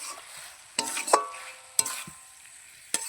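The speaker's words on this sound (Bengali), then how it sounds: "ভালো করে আমি কষিয়ে নেব" Spice masala for a meat curry is sautéed in a pan: a faint background sizzle with a few distinct spatula scrapes and clanks spaced about a second apart.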